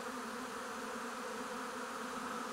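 A large honey bee swarm in Kashubia, still partly airborne before settling, fills the air with a dense, steady buzzing hum that holds constant and close throughout.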